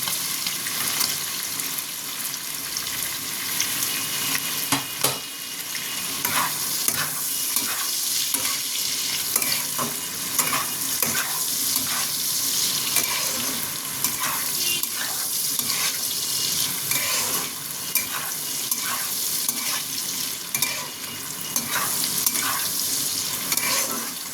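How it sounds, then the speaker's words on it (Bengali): Beans and carrots lightly frying in a pan for a mixed pulao, a continuous bright sizzle with irregular stirring scrapes and clicks throughout, no voices. "বেশি লাল করবেন না, শুধু একটু ভেজে নেওয়া।"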